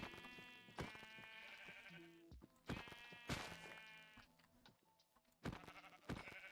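Sheep bleating in Minecraft, several distinct drawn-out baas spaced a few seconds apart, close and clear against a quiet background.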